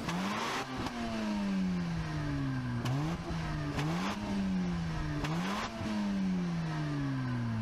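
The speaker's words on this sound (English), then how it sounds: "An RX-7 should sound like this." A Mazda RX-7 rotary engine in Forza Horizon 4 revs up and down repeatedly, pitch sweeping upward then easing off between gear shifts, loud and close with no talking.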